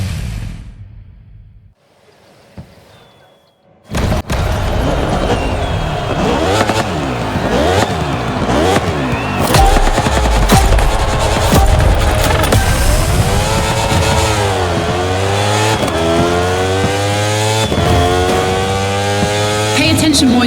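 Video game motorcycle racing in The Crew Motorfest, a Red Bull Speed Clash moto event: after a quiet start, a loud, close engine roars in, revving and shifting up and down continuously with rising and falling pitch.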